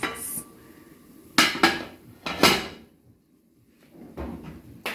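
A banana drops among pots and pans in a home kitchen while a Jamaican breakfast is being made, giving a few sharp clattering knocks of metal cookware and utensils, close and loud, with quieter rattling around them.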